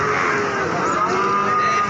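Cattle moo and low at a livestock market in Pati during light rain, a close, drawn-out bovine call filling the short moment.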